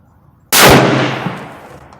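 A Tikka T3X Lite rifle fires a single sharp, loud shot outdoors during sighting in, followed by a long, fading echo and no voices.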